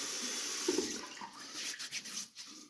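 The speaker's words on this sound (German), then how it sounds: "Ich mache mir einmal kurz schon mal den Bart nass." Running water from a tap splashes softly as a beard is wetted before a wet shave, a steady faint trickle with brief splashes near the end.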